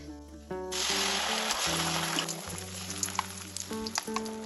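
Spice paste frying in hot oil with black cumin seeds while cooking a Bengali thor vorta (banana stem mash), a steady broadband sizzle that jumps up loudly as the paste hits the pan, running under background music.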